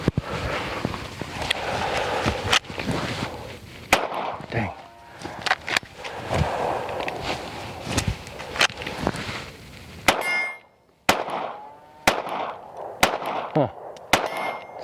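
Springfield Armory Hellcat Pro Comp OSP pistol fired outdoors, a series of sharp, loud shots in irregular succession with brief pauses, ringing clangs from steel targets, and someone talking between shots.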